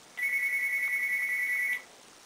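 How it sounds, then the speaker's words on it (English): A phone rings once with a steady, bright electronic tone lasting about a second and a half, clear and alone with no talking. "I gotta answer the phone call"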